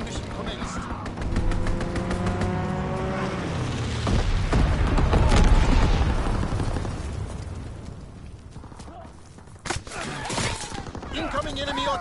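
Bomber airstrike in a World War II video game: a rapid burst of gunfire leads into heavy, rumbling bomb blasts that swell and fade, followed by a sharp crack and more scattered explosions.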